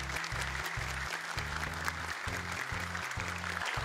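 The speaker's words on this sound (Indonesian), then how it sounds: "Tepuk tangan untuk Kausar." Applause from the audience at a graduation ceremony for young Quran memorisers, a steady wash of clapping throughout, heard over a low rhythmic musical backing.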